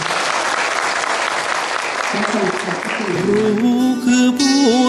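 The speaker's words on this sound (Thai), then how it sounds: "ขอเรียนเชิญคณะครูทุกท่านปรบมือเพื่อขอบพระคุณท่านอีกครั้งหนึ่ง" Sustained applause from an audience of teachers at a meeting fills the clip, steady and loud, with music starting to rise underneath toward the end.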